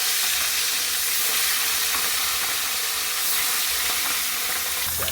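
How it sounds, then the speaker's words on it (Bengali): Rohu fish fries in hot oil in a wok with a dense, steady sizzle and hiss throughout. A few faint scrapes or clicks come through the noise, and no one speaks. "মাছটি লাল লাল করে ভাজলাম,"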